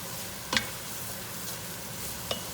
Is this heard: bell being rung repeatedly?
no